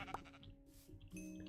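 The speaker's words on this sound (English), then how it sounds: "Ooh, another sheep." A Minecraft sheep lets out a short, clear bleat close by, followed by quieter game ambience and a second faint bleat-like tone near the end, with no talking.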